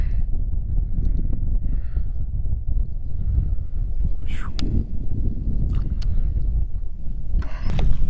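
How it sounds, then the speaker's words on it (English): Wind buffets a GoPro microphone out on a lake during a fishing trip, making a constant low rumbling roar with occasional faint clicks and rustles on top. "I know there's some wind going on, and you know, GoPro mics, they're always top notch"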